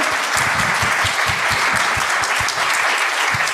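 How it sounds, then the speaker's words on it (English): Sustained audience applause at a symposium discussion, steady dense clapping from a crowd filling the whole stretch, fairly loud and with no talk over it. "So another round of applause."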